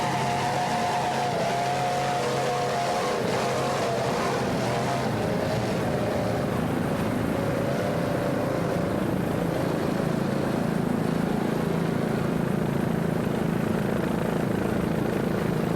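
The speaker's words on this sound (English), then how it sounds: "This class is basically all Factory 2 boats with canopies." Racing powerboats with canopies, in the Super V Light Factory 2 class and powered by twin 500 horsepower Mercury engines, roar past at Daytona, a loud continuous engine drone whose pitch slides gradually as the boats pass.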